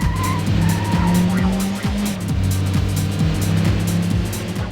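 A car in Metropolis Street Racer on the Dreamcast drones loudly and steadily while its engine pitch climbs and drops in repeated gear shifts. Tire squeals break in across the whole stretch, and nobody speaks.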